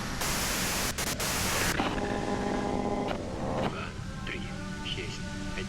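Broadband white-noise static from the video game Disco Elysium fills the clip at a steady loud level, with faint tonal game sounds and a voice showing through underneath.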